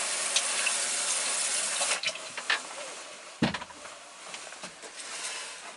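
Tap water runs and splashes into a container for watering sown seeds, a steady hiss broken by a few louder splashes and clunks toward the end.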